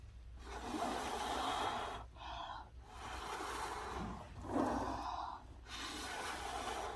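Air blown by mouth across freshly poured paint, several close breathy gusts of rushing air in bursts separated by short pauses.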